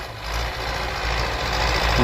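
A tractor disking garden plots before ploughing gives a steady, loud engine drone with a constant low rumble, heard close and alone for about two seconds.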